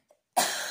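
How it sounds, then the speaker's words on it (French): A single sharp cough bursts out close and loud after a brief faint throat sound, from a person sitting at a computer, with a short tail of breathy noise. "Désolé, je tousse un peu."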